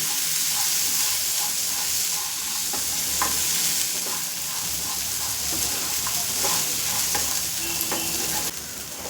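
A spice mixture with coriander powder frying over a medium flame in a pan, a loud continuous sizzle and hiss with regular stirring scrapes and clinks, no talk.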